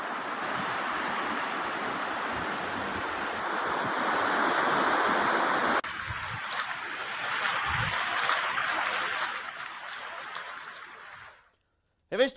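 Overflowing water from Avani lake and nearby lakes floods into farms of ragi, pigeon pea and cauliflower, making a steady, loud, close rush of flowing water that shifts midway and cuts off abruptly at the end.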